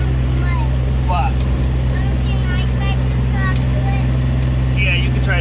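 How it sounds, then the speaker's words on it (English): A Kubota utility vehicle drives past a pasture on a farm in July, its engine giving a loud, steady low drone that fills the whole clip, while voices and chatter sit on top. "We are in the Kubota, like he said, and we're just passing the pasture"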